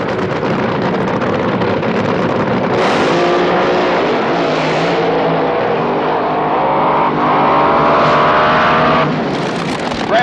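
Top fuel dragster making a pass at the 1978 NHRA Gatornationals, a loud, continuous roaring engine howl that swells and shifts pitch over about ten seconds, heard from the track side with wind buffeting.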